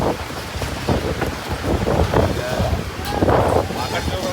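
A heavy rain and hailstorm is driven by gusting wind, giving a loud, rough outdoor roar with buffeting bursts. A person talks over the storm.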